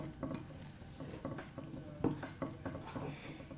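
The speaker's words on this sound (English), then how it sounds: "So right now I'm stirring very, very carefully so that I don't spill flour all over my outfit." Flour mixture for sugar cookies being stirred in a large bowl, soft repeated scraping and tapping of a spoon against the bowl, gentle and close with no talk.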